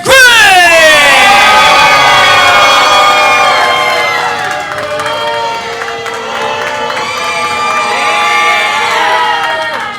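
A wrestling crowd cheers and screams for a hometown hero champion at a live event, a loud sustained roar of shrieks and yells that swells at first, then stays dense and excited throughout.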